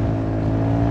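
A Honda Forza 350 scooter fitted with light 13-gram variator rollers accelerates, its exhaust giving a steady, close, droning engine note for about a second with no talk.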